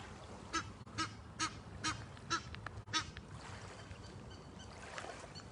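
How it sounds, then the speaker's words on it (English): Several loud honks from geese near the water, spaced about every half second, then quieter calls trailing off over a steady outdoor background. "I don't want to disturb the ducks, the geese."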